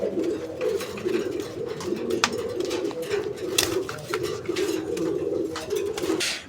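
Steady cooing of a Raj-Golla pigeon throughout, soft repeated low coos in a continuous rhythm with faint chirps and rustling in the background.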